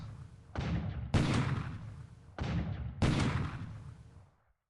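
Naval bombardment from cruisers and then battleships in the War in the Pacific video game, heard as four heavy booming blasts in two pairs, each with a long rumbling decay, loud and alone with no talk.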